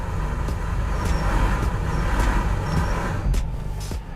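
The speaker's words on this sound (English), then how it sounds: "Foot to the floor, I'm completely full throttle." A 2023 Toyota Corolla AWD, stuck at full throttle, gives a steady, loud engine drone with a broad, constant rumble.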